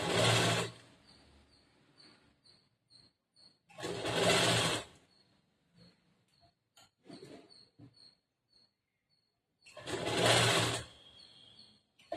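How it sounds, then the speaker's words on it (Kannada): A sewing machine stitching a blouse with back hooks runs in three loud whirring bursts, the middle one longest, separated by quiet stretches of small clicks and handling sounds. "ಈಗ ಆಲ್ರೆಡಿ ಹಾಕಿರೋ ಹೊಲಿಗೆ ಮೇಲೆನೆ ಇನ್ನೊಂದು ಹೊಲಿಗೆ ಹಾಕ್ಬೇಕು"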